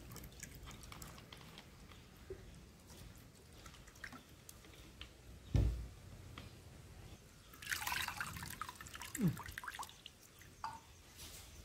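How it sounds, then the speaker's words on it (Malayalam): Tamarind water squeezed and poured by hand into a clay pot for Karnataka-style rasam: soft, close drips and trickles with a brief louder splash of pouring partway through, no talk. "പുളിവെള്ളം പിഴിഞ്ഞ് നന്നായി ഒഴിച്ചോളൂ"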